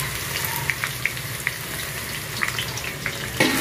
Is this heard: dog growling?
no